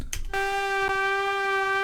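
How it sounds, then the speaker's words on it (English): A single sustained synth note with a bright, buzzy harmonic tone holds steady for almost two seconds after a brief noisy onset. "we have a lead that sounds like this, a singular note"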